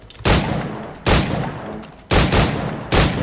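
Four loud, close gunshots ring out in the Assassin's Creed IV video game, each a sharp crack with a decaying tail, spaced about a second apart.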